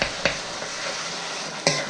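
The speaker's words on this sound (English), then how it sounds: "Now you are going to brown off this turkey" Ground turkey browning in a pan for egg roll in a bowl, a steady soft sizzle with two sharp utensil scrapes against the pan, no voices.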